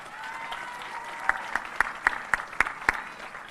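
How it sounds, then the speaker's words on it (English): High school graduates applaud their supporters and loved ones during a graduation ceremony. The crowd's clapping holds a steady wash, with a series of sharp, evenly spaced claps standing out above it. "Graduates, please give your amazing network of supporters and loved ones a round of applause."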